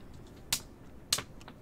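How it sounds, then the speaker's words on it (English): Two sharp, light taps of a cat toy about half a second apart, with a few fainter clicks after, over a quiet room background. "If you guys hear that tapping, that's just the cat toy."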